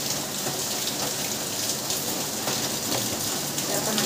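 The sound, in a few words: rain falling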